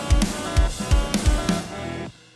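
A drum groove with punchy kicks and snare hits, soft ghost-note snare taps filling the gaps between main beats, ending abruptly.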